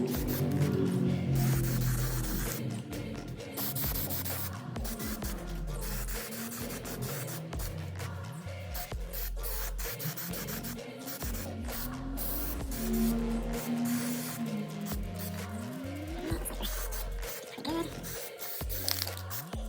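Aerosol spray paint hisses in long bursts as a coat of flat dark green goes onto an RC rock crawler body, close and steady across the clip, with a person talking over it.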